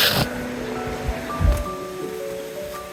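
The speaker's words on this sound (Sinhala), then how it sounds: "අපි ගඟ ළඟට ආවා" The Kuru Ganga river flows near Erathna, Sri Lanka, in a steady broadband rush of water with a few low thumps and soft tonal hints, and no voices.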